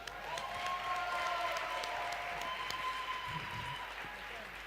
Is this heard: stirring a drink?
no